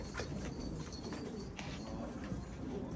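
Flight pigeons belonging to a Syrian breeder coo softly among continuous bird calls, a steady murmuring flock close by with no voices over it.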